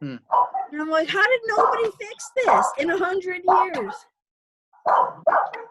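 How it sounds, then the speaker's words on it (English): A dog barking in short sharp yaps, heard through and between a person speaking, close and fairly loud. "Whose dog is barking?"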